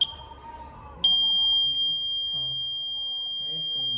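A two-zone fire alarm panel sounds a loud continuous high electronic tone that starts abruptly and holds steady, while people talk faintly underneath.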